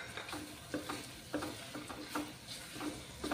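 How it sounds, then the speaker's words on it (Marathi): Sprouted moth beans (matki) tipped into a sautéed gravy and stirred in a pan, giving soft repeated scraping strokes over a low sizzle, with no talking. "यामध्ये मस्त अशी फ्रेश मोड आलेली म्हणजे मटकी आपण टाकून घेतोय।"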